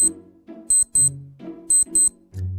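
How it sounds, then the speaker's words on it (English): An alarm clock goes off at 5 a.m. with pairs of sharp, high beeps that repeat in a steady pattern. Low, muffled sounds fill the gaps between beeps. "that's your 5 a.m. alarm letting you know that your day has just begun"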